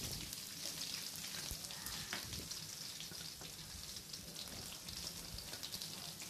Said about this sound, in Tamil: ஆனியன்ஸையும் நம்ம நல்லா வதக்கி வதக்கிக்கணும்.